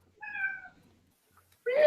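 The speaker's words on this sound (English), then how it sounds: "No, that's a happy meow." A pet cat gives one clear, mid-length meow, fairly close, followed by a short silence and then a voice starting to speak.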